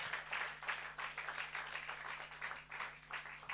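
Faint, distant applause from a congregation at a Christian retreat prayer service, a steady patter of many hands clapping over a low electrical hum.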